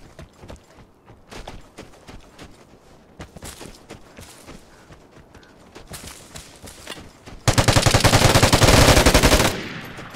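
Gunfire in the online shooter Vigor, with scattered single shots and footstep-like clatter leading into a dense, loud burst of rapid automatic fire that stops abruptly, close up with no talking.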